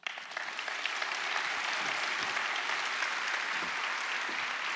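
Applause from the audience at the IFLA World Library and Information Congress 2023 opening session swells quickly and stays as a broad, sustained wash of many hands clapping.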